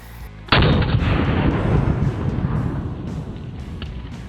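Desert Eagle .50 caliber handgun fired once, a single loud, sharp blast followed by a long rumbling decay.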